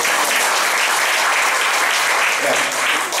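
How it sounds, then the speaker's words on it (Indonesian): A church congregation claps, a dense, steady wash of applause filling the room at full volume for the whole stretch, with voices mixed faintly in. "Boleh dong tepuk tangan buat Tuhan."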